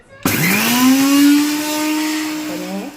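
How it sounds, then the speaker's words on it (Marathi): A mixer grinder starts abruptly and whirs loudly and steadily while grinding roasted coriander, cumin and red chilli, with its pitch rising then sinking slightly before it winds down near the end. "आता याला आपण बारीक करून घेऊया। मिक्सर पॉट मध्ये घातलेला"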